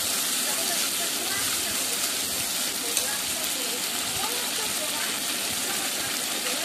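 Masala with tomato paste and salt fries in a pan, making a dense, continuous sizzling hiss that stays even and close for the whole stretch.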